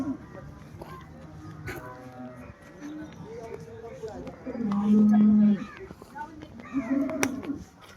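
Cows at a cattle market in Loni give several low moos, one loud and drawn-out, amid market chatter and people talking nearby.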